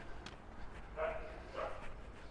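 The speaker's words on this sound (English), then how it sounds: "Dog's telling me off." A dog on a street in Pattaya gives two short, distant barks about half a second apart over faint background street noise.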